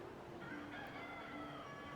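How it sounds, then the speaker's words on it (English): Chickens cluck and a rooster crows in Mount & Blade II Bannerlord, a faint, steady farmyard chorus set against a constant low game ambience, with no one speaking. "You heard the chickens."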